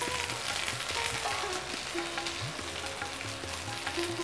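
Ginger fries in hot oil in a covered pan, making a dense, continuous sizzle and spatter heard up close, with faint clinks alongside and no talk.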